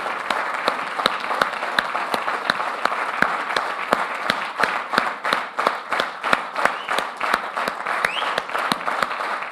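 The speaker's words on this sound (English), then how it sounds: "Who are you clapping for?" Rhythmic applause from an audience at a leadership summit, steady synchronized clapping at an even beat, moderately loud and continuing throughout.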